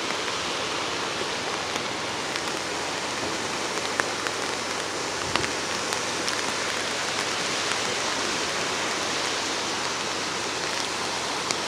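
Steady heavy rain falls near a river in Oregon, a dense, even hiss of drops on wet ground and foliage, continuous and close with no voices.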